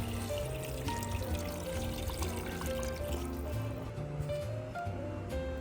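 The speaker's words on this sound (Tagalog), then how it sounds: "Lagyan natin ng tubig hanggang lumubog lang ang meat." Water pours into a deep casserole of fried pork trotters, a soft, steady stream of filling liquid with a faint gurgle and no talk.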